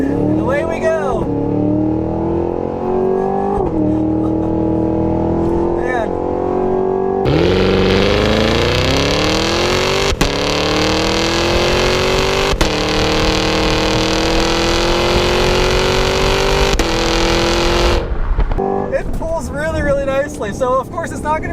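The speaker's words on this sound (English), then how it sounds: "So I'll do launch control here. And away we go." A 2023 Cadillac Escalade-V does a launch-control start, its supercharged V8 rising through gears in long loud sweeps with brief shift breaks, heard from inside the cabin under talk.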